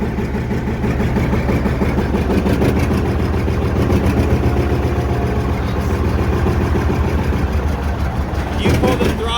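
A John Deere R tractor engine runs after a cold start, giving a steady, loud, close low chugging drone throughout with a brief change near the end.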